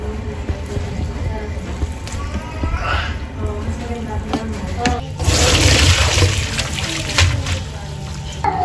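Hot water drained from blanched fern (pako), a running, trickling pour that swells louder and fuller midway, close by, with some background voices.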